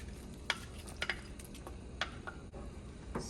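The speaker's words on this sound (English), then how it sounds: "Now I'm going to add the okra." Okra added to a simmering fish soup, giving a steady bubbling hiss with a few soft clicks and taps of ingredients and utensil against the pot, fairly quiet throughout.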